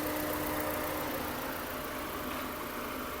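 A Ford Fusion engine idles steadily with a low, even hum and faint mechanical hiss, continuous and unchanging, heard close up.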